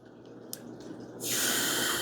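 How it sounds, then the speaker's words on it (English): Water is poured onto salt and pennies, with a few soft drips and clinks at first, then a sudden close, hissing rush of water that continues strongly to the end. "We're going to add water and pennies"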